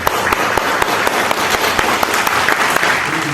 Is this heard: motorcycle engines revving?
no